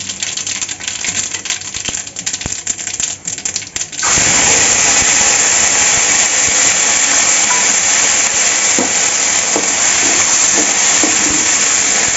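Vegetables and whole spices frying in oil, a loud dense sizzle that jumps sharply in intensity partway through and then holds as a steady crackling hiss.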